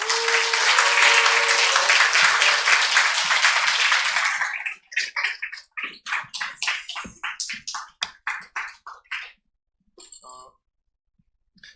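A church congregation applauds in welcome at a New Year Friday prayer meeting. Dense, loud clapping runs for several seconds, then thins into scattered individual claps that fade out.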